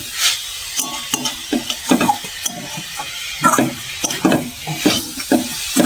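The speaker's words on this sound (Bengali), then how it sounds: "নারকেল ছাই মারাটা হয়েই এসছে, আর অল্প একটু নাড়লেই হয়ে যাবে" Grated coconut filling for Bengali pithe stirred and cooked in a pan, with loud, close scraping of the spoon in quick, repeated strokes over a continuous low sizzle. No talking.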